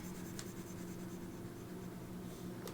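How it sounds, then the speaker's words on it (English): Pencil sketching on paper during a live drawing session of a chibi tanuki, a steady soft scratching texture throughout with a couple of brief sharper strokes, quiet and close, no talking. "For sketching, I like paper and pencil."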